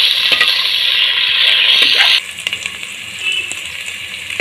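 Sliced onions with grated ginger frying in a pan for a Bombay-style mixed vegetable saagu give a loud, close, steady sizzle that drops sharply halfway through, followed by quieter stirring scrapes.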